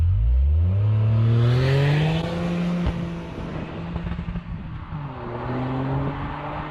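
A Toyota GR Corolla launches hard from a standstill, its engine note loud and close, rising steadily in pitch through the revs with a short break as it shifts, then climbing again.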